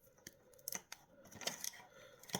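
A 12V wire harness ground wire snipped with cutters: several sharp, crisp clicks spaced unevenly, close up and fairly quiet, with no talking.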